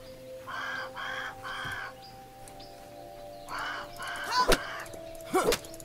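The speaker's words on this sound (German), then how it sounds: "Der Rabe hört sich da was an, als würde was explodieren." A raven in the video game Grounded gives a few harsh repeated caws over a quiet hum, followed by two sharp loud thumps like heavy impacts.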